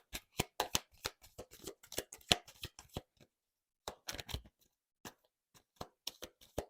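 Tarot cards being shuffled by hand, a sequence of crisp, quiet riffles and slaps in irregular clusters with short pauses between, close up and with no talking.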